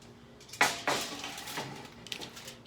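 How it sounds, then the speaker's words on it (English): A metal cookie sheet lined with aluminum foil is set down on a kitchen counter, giving two clanking metallic knocks close by, followed by lighter rattles and a faint scrape. "I have a sheet pan here"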